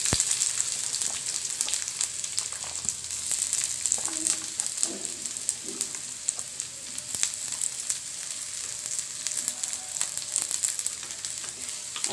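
Chopped onions fry in hot oil on a stovetop, filling for chicken patties, giving a steady, close, continuous sizzle with faint stirring clicks throughout, no voices.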